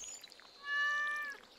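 A cat in Stardew Valley lets out a single loud, drawn-out meow that rises and swells before fading, heard alone over faint background.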